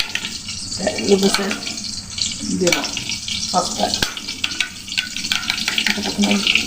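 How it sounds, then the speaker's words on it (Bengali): Food fries in a pan for pasta, a steady close sizzle running the whole time with brief stirring scrapes, while a voice talks quietly over it. "হালকা একটু ভেজে নিই"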